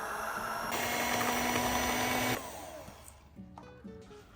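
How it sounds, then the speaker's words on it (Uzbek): An electric mixer whirs loudly through cookie dough for about two seconds, then stops, leaving quiet clinks and light handling sounds. "yana aralashtirishda davom etamiz"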